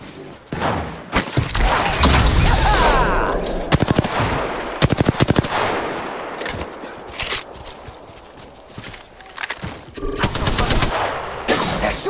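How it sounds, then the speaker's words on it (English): Automatic weapon fire in the Apex Legends battle royale game, bursts of rapid shots rattling in several volleys, loud and close, with game sounds and brief pauses between the strings of fire. "Opening fire on the enemy."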